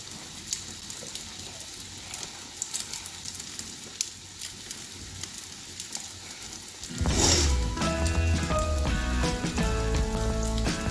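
Plantain and egg frying in a pan as a quick breakfast, a loud, steady sizzle that bursts in near the middle and continues densely to the end, with faint kitchen clatter before it.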